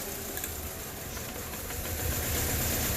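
A 2005 Mini Cooper engine idles with a misfire while the cylinder 4 plug is pulled, giving a steady rough mechanical hiss and rumble that grows slightly louder toward the end, with no talking.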